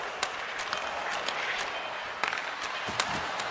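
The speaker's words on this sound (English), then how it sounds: "And the crowd urging for them to shoot as time ticks down." In a hockey video game, the crowd keeps up a continuous, excited roar as the clock runs down, with scattered sharp claps and thumps scattered through it.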